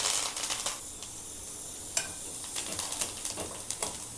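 Pepper, mustard seeds, cumin and curry leaves crackle and sizzle in hot oil, with bright popping bursts scattered over a constant hiss, close by and with no talking.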